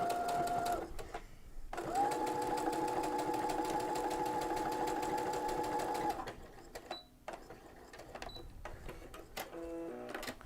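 Sewing machine fitted with a fringe looper foot, stitching in two steady whirring runs, the longer lasting about four seconds, followed by clicks and short bursts of handling noise.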